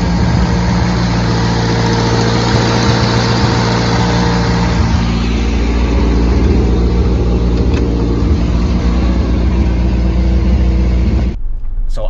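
A Mercedes 190E engine runs steadily at close range, a loud low rumble with slight revving variations, cutting off abruptly near the end.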